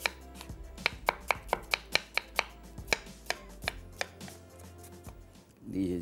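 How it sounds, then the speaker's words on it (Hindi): Onions chopped on a board, a fast run of about a dozen crisp knife strikes that slows and spaces out, then stops before a brief low rustle. "ख़वातीन से मैं गुजारिश करूँगा कि पहले वो प्याज को काट लें"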